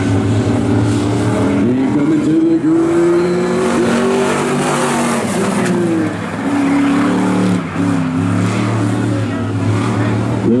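A late model race car engine drones loud and sustained at a speedway, its pitch rising and falling as it winds through turns three and four, with a couple of brief dips in revs and a commentator's voice faintly under it.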